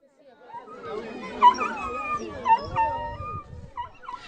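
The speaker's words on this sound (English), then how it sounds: "People are bringing their dogs to a clinic for their rabies vaccinations." Dogs whimpering and howling at a rabies vaccination clinic in Blantyre, Malawi, rising and falling whines from nearby animals with short yelps and people chattering underneath.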